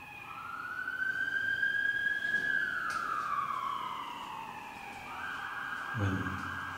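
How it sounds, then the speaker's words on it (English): An emergency siren wails past outside Cardiff Castle, faint and distant, rising and falling in long sweeps before fading, then a second siren tone begins; a brief knock sounds near the end. "Sirens going past outside."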